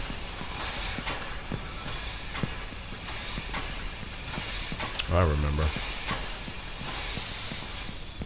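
A train rolls along with a steady hissing rumble in a video game, a brief tonal blast sounding midway, while someone talks over it.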